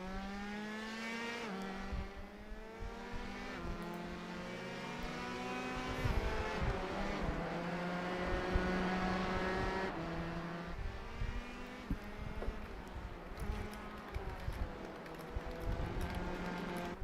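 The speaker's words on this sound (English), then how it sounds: "At least I hear cars on track." Several open-wheel race car engines roar and whine at high revs in a racing video game at VIR, pitches sweeping up and down as they shift gears and pass, loud and continuous with no talking.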